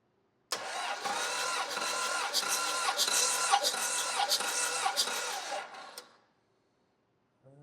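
A rebuilt Cummins diesel engine in a Case 1840 skid steer cranks over for about six seconds during a compression test, giving a steady rhythmic churning with even pulses, close and fairly loud, then it stops.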